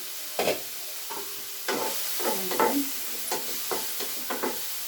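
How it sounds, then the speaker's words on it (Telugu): Cauliflower fry being stirred in a pan, a low frying hiss broken by repeated scraping and clattering strokes of a spoon, close and moderately loud with no voices. "మగ్గిన తర్వాత మూత పెట్టుకుందాం ఫ్రెండ్స్ మధ్యలో ఒకసారి కలుపుకుందామండి"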